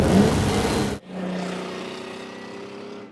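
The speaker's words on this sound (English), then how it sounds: "Takes a while to clear its throat, and then, oh man, what a noise. What an engine." A car engine roars loudly, cuts off abruptly, then settles into a lower steady drone that slowly fades.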